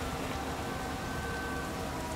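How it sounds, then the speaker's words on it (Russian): Steady rain falls outside in the Twin Soul video game, a dense, even hiss of drops on surfaces that holds without a break, close and fairly loud, with no one talking over it. "На улице дождь."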